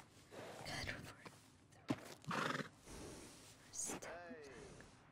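A female racehorse in the Red Dead Redemption 2 video game: a loud, wavering whinny near the end, preceded by soft hoof clops and snorts, with a person talking quietly throughout.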